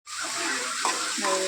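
Finely chopped onions sizzle and fry in hot oil, a steady crackling hiss close by with a brief stir partway through.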